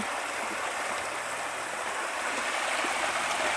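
A stream of running water where a dog drinks gives a steady, close, hissing rush that stays even throughout, with no talking.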